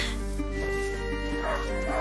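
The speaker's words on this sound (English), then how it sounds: "Leo, a hunting dog is not supposed to lose its hunter." Hunting dog in the video game A Plague Tale: Innocence, giving a few yipping barks and whimpers over a steady low game-music drone.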